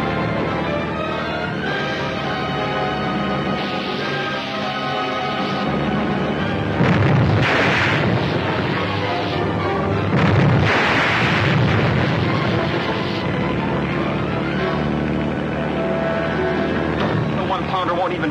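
Gunfire and heavy explosions from a 1-pounder gun in an action scene, with deep booms landing at intervals over a continuous rumbling background and windy noise, under dialogue.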